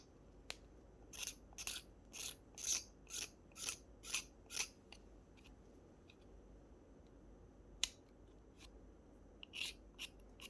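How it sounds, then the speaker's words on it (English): A small scalpel trims rough bits off resin beach coasters in a rhythmic series of about eight short, crisp scraping strokes, followed by a pause and a few more scattered scrapes. "I'm just going to run my little scalpel like that just to trim any bits off"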